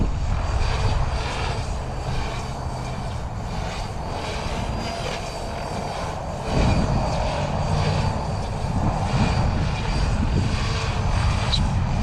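A Freedom Piuma RC helicopter flies at low head speed nearby, its rotor and motor making a continuous whirring drone that surges louder partway through as it pirouettes and repositions.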